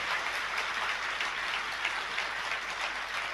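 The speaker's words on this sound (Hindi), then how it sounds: "सभी ने तालियां नहीं बजाई।" A seated audience at a religious discourse claps together in a steady, dense wash of applause that continues evenly throughout, moderately distant and without speech.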